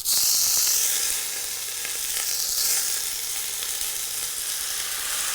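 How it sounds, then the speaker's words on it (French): Meat sears in a hot casserole pot, a loud and close continuous sizzle that flares strongest at the start, then settles into a steady frying hiss with faint stirring scrapes and no talking. "Je vais faire quand même saisir ma viande comme ça dans la cocotte."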